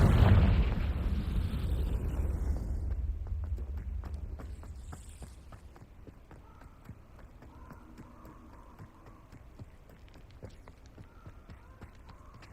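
A Confringo blasting spell explodes in Hogwarts Legacy, a loud burst with a rumbling low tail that fades over several seconds into quiet ambience with scattered light clicks and steps.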